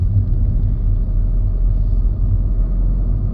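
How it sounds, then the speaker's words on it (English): A car behind accelerating harshly in busy traffic, heard from inside a vehicle as a loud, steady low engine rumble and drone throughout. "Vehicle behind is accelerated pretty harshly, so it looks like that he wanted to beat the red light."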